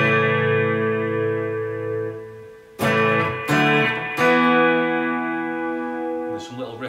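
Electric guitar chords closing the chorus of a song, a sustained ringing chord followed by three strummed hits, moderately loud and close, with distortion and chorus effects colouring the tone.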